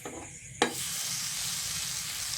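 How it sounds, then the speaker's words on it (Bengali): Palm fritters (taler bora) frying in oil on a tawa, a steady close sizzle with a brief sharp clatter near the start as a spatula touches the pan. "দেখুন একদিকটা ভালো করে ভাজা হোক, তারপরে খুন্তির সাহায্যে উল্টে নেব।"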